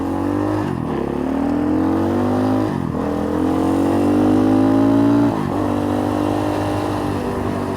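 An X-Pro Templar 250 dual sport motorcycle with a newly replaced, not yet dialed-in carburetor drones loudly and close, its engine pitch rising through gears with brief dips at each shift, steady and continuous with no talk.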